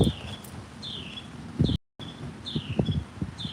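Birdsong outdoors: several short chirps and whistled calls, faint and somewhat distant, repeat over a soft rustling background, with a brief gap partway through and no talking.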